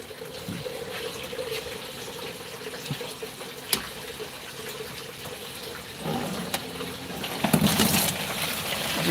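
Water and muck draining out of a koi pond filter through a silicone pipe, a steady moderate gush with occasional splashes and a louder surge near the end.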